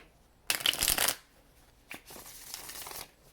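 Tarot cards being shuffled by hand: a loud, dense riffle of about half a second, then a quick tap and a longer, softer stretch of card shuffling, close by with no talk.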